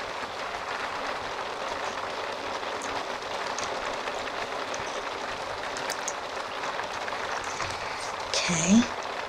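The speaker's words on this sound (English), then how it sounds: "Ah, that is hail, people. That is hail going on right now" Hail falls in The Sims 3 Seasons as a dense, even patter of steady noise that continues throughout, with a brief louder thump near the end.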